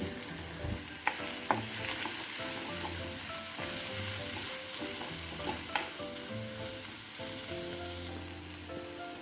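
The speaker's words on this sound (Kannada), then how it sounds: "ಇದು ಎಲ್ಲ ಒಟ್ಟಿಗೆ ಫ್ರೈ ಆಗಲಿ" Grated coconut frying with spices in a pan for an egg masala, a loud continuous sizzle with occasional stirring scrapes and light taps, close up and without talk.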